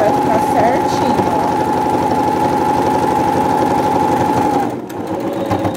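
Close and loud, a sewing machine hems a dish towel with a steady droning hum. Near the end it slows down and stops briefly.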